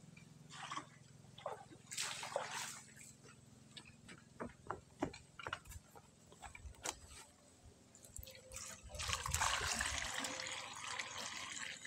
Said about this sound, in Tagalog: So ngayon, lalagyan na natin ng tubig.